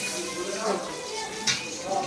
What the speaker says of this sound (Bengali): আমি একটু বেশি করে মাছ ভাজা করেছি